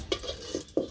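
Potatoes stirred in hot oil in a village kitchen, a faint sizzle beneath a few soft, quick spatula scrapes and taps, with no voices.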